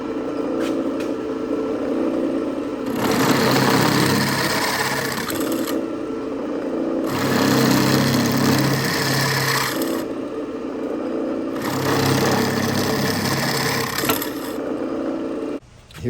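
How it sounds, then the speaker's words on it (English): A power drill runs a smaller bit through metal on a custom Harley-Davidson EVO FatBoy build, in three sustained bursts of a few seconds each with brief pauses between them, loud and close with a steady whine. "So I'm going to start with a smaller bit here, drill these holes out, and then move to a bigger bit."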